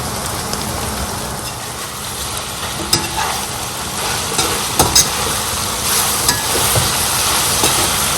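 Steak fries in a hot pan with a steady sizzle, with occasional clinks and scrapes as the meat is stirred and turned.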